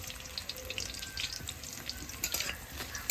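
Whole garlic cloves frying in hot oil in a pan, a steady soft sizzle alone with faint watery crackle throughout and a few sharper pops near the end.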